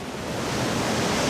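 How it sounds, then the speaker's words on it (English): Continuous rough, seething water at a harbour mouth during a gale, a dense steady roar of surf and wind that stays loud and unbroken throughout. "The gale has turned the harbour mouth into a seething stretch of water."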